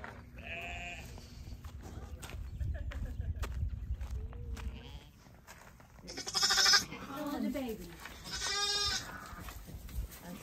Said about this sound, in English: Lots of sheep.